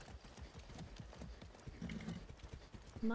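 Quiet, steady hoofbeats clop along in a quick rhythm, a horse in the video game Far Cry 6 trotting at a distance with a soft background hum.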